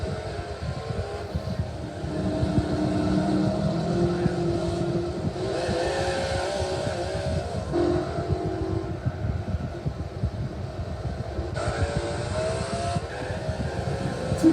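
Race car engines in Gran Turismo 4, including an SS Camaro and a Z28, a continuous loud droning whine with shifting tones as the cars lap, without talk.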